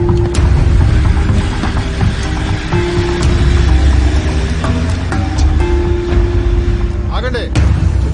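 Buses roll past at an ashram-area checkpoint in a dubbed film scene: a steady, loud engine rumble continues throughout, with people talking over it.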